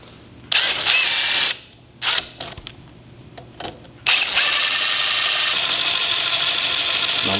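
Screws being worked loose from the ignition switch on a HISUN 450cc-750cc UTV with a Phillips screwdriver or ratchet, giving bursts of close, clicking ratchet-like mechanical noise separated by short pauses, no talking.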